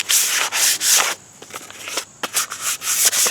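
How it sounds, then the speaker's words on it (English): Sanding the factory finish off a wooden axe handle by hand, close, scratchy strokes in quick bursts with brief pauses between them, alone without talk. "while I'm sanding this"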